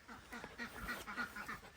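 Ducks on a Canadian homestead quack repeatedly in a close, busy flock. The overlapping calls come in an uneven rhythm at moderate volume, with no talking.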